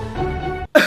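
A single short cough bursts out after a brief voiced sound, close and loud, ending the moment.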